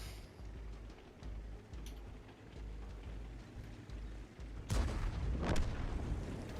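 A tank gun firing in World of Tanks, a Chieftain-type tank (Chapature 4) in ranked battle: low rumbling ambience, then one loud boom about two-thirds through followed by a rolling echo.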